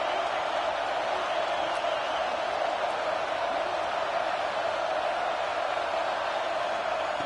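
A dense stadium crowd at a Michigan vs Nebraska football game in a college football video game roars as one steady, unbroken wash of noise, moderately loud and filling the whole stretch without pause.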